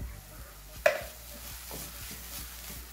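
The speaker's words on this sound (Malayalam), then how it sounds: "എന്നിട്ടൊന്ന് ഇളക്കി കൊടുക്കണം." Carrots sautéed in ghee with condensed milk are stirred in a pan for carrot payasam: one sharp utensil clink against the pan, then a faint, soft simmer alone with no voices.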